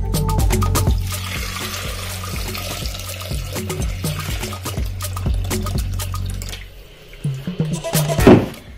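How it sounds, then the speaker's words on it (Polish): Tap water pours steadily into a Thermomix bowl over half a kilogram of young potatoes, a full rushing gush that thins and splashes unevenly near the end, with no voices. "Zalewamy je wodą tak, żeby pokryła całe ziemniaki."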